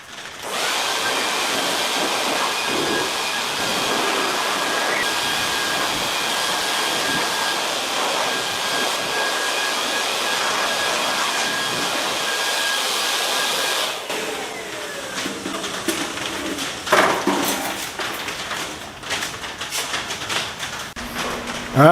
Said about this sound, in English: This is my dryer of choice.